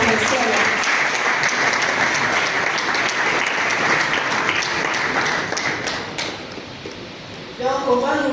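Loud, dense applause from an audience in a large hall at a veterinary day event, steady for several seconds before thinning out, with voices faintly underneath.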